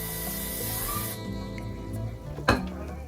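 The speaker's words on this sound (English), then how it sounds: "oil spray," A short burst of cooking oil spray hisses once near the end, brief and close, over a low steady background rumble.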